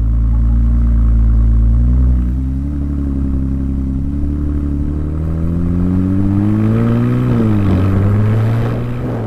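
Ferrari 296 GTB with a 2992 cc V6 engine revs in race mode, a loud close engine drone that rises in pitch, dips sharply, then climbs again, with no talking.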